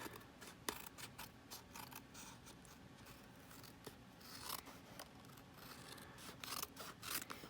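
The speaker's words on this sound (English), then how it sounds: "So we're going to trim the back piece." Scissors trim the paper cover of a mini composition notebook, a quiet series of irregular close snips and sliding cuts with soft rubbing between them.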